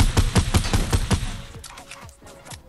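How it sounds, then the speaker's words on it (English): A turret in Fortnite fires a rapid burst of about seven loud, evenly spaced shots, then its echo tails off into fainter clatter. "He just got killed with a turret."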